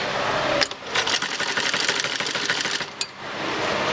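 A sewing machine stitching a trouser runs in a continuous close whirring rattle, briefly pausing about two times, with no talk.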